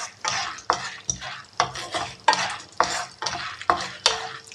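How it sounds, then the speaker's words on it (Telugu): Roasted chana dal for murmura chivda is stirred and fried in a pan, with a spoon scraping in regular rhythmic strokes about every half second over a soft steady sizzle, close and clear with no talk. "ఈ విధంగా మనం కదుపుతూ ఉంటే ఏమవుతుంది అంటే మొత్తం అన్ని సైడ్స్ కూడా ఈవెన్గా ఫ్రై అవుతాయి అనమాట"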